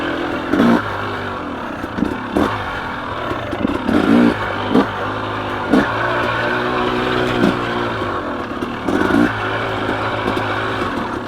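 A KTM 300 XC two-stroke dirt bike climbs uphill on a single-track trail, its engine droning steadily with repeated throttle blips and revs, close and loud throughout with no talking.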